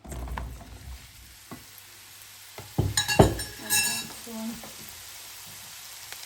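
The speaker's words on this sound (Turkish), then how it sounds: "Mantarı ayrı kavuralım." Mushrooms sauté in a little oil in a pan for a cold-weather soup: a low, steady sizzle with a few scraping stirs and light clinks clustered in the middle, fairly close.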